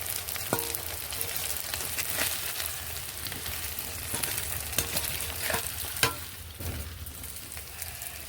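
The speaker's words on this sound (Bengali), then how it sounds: "এটা প্রায় ভাজা হয়ে গেছে।" Food fries in hot oil, a steady close sizzle with occasional sharp stirring clicks and scrapes and no talking.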